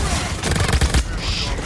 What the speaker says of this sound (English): Oh, Gatling gun.